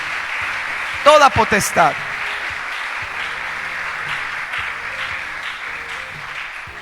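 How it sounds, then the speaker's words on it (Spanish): A church congregation applauds during a sermon, a steady wash of clapping that runs the whole time while a voice speaks briefly over it early on. "Le aplaude a Jesucristo por eso."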